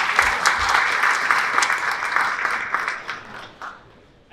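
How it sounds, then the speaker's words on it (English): Applause from the audience at a pitching competition after a startup presentation, a dense steady round of clapping that holds for several seconds and then thins out toward the end. "Please, a round of applause."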